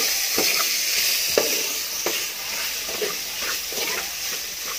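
Tenderised pork skin being stir-fried in a pan for a northern Thai curry, a loud steady sizzle broken by repeated scraping strokes of the spatula every second or so, up close.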